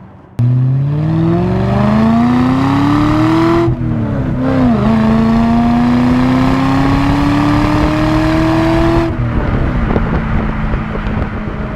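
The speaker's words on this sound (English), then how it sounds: "we'll try and do a little bit of a pull up this hill, see if I can get some engine noise for you as well" An Aston Martin Virage sports car engine revs hard uphill and climbs steadily in pitch, pauses briefly as it shifts gear, then keeps pulling up. Loud and close, with wind noise.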